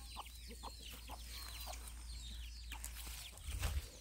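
Chickens cluck softly at a family home as evening falls, scattered short calls at a distance over steady low background hum, with a slightly louder burst near the end.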